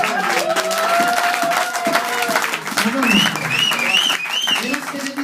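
A church congregation applauding and cheering in praise, sustained clapping and crowd acclamation mixed with voices.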